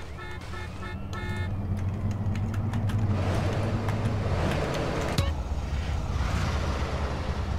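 A race car engine in Grand Theft Auto: San Andreas roars up over a constant rumble, rising and holding loud, with brief electronic beeps at the start and a sharp click midway.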